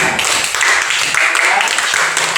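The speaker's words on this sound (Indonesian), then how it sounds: "Sekali lagi tepuk tangan untuk kelompok 2." A classroom group claps briefly for a student team, with a quick burst of hand claps blended with voices.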